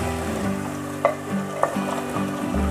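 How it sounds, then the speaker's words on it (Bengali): Mutton korma sizzles steadily over a medium flame as a spoon stirs it, with a couple of sharp clinks against the pot above a continuous frying hiss. "ভালো করে মিশিয়ে নেব, খুব মিডিয়াম ফ্লেমে রান্নাটা করতে হবে"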